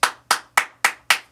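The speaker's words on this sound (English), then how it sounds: "Clap your hands." Five sharp hand claps in a steady, even rhythm, close and loud, with short gaps between them and no voices.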